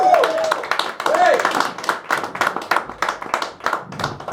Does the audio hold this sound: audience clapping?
yes